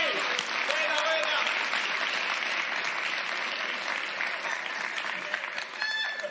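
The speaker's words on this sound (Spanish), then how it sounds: "Un aplauso para el público que nos acompaña esta noche." Sustained audience applause at an evening comedy show, a dense, even wash of many hands clapping that continues unbroken for several seconds.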